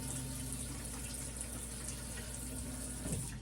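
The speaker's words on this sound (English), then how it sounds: "running water in the boat" Cold water running from a tap aboard a narrowboat, a steady splashing flow over a low mechanical hum, fairly quiet and unbroken.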